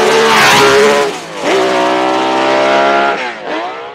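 A loud Matra race car engine screams past at high revs, the pitch sweeping down and then climbing again as it accelerates, with no voices.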